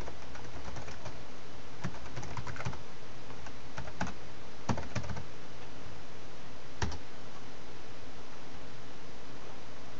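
Password being typed on a computer keyboard at a bootloader prompt, with faint, scattered key clicks in short irregular bursts over a quiet background.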